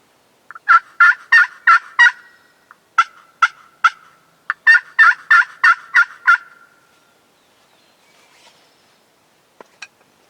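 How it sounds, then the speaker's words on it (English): A wild turkey gobbles loudly and repeatedly from close range in the Vermont woods, with bursts of rapid rattling calls separated by brief pauses, then a few faint clucks trailing off into quiet. "It's been a while since I've been on a bird that gobbles."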